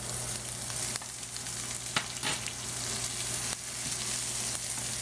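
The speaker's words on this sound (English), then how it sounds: "Let them fry a bit." Chopped ginger with jumbo, regular and purple onions sizzles steadily in a pan for a beef and green bean stir fry, a loud, dense crackle with occasional stirring clatters and no talking.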